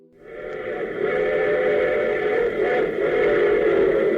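Old-time radio broadcast sound from an antique radio speaker: a steady tonal, music-like hum that swells in and holds at a fairly loud, constant level.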